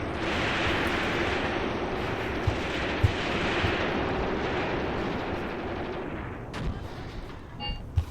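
Tank battle in the WWII tactics game Graviteam Tactics Mius-Front: a dense, continuous roar of distant gunfire and rumbling with a few sharper reports poking through. The shots are muffled and sustained, with no voices heard.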